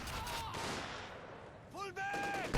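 A Pershing tank fires its cannon in a Company of Heroes 2 one-versus-one battle, giving faint, muffled battlefield blasts beneath a commentator's voice.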